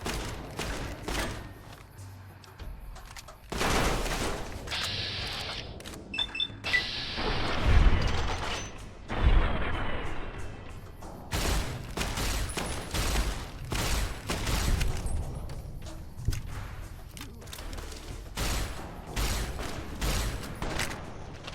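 Video game gunfire in a firefight, with scattered shots and booming bursts that come and go at moderate loudness, along with some clinking mechanical game sounds.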